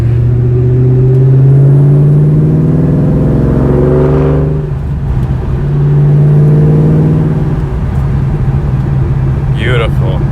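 A 2004 Mystichrome Cobra cruising, its steady engine drone and road rumble rising and easing as it drives, with people talking throughout over the cabin noise.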